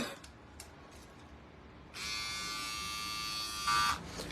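A rechargeable ladies' electric trimmer with a sensor switches on and buzzes steadily and close, a bright motor whine that holds at an even level for about two seconds with no one speaking.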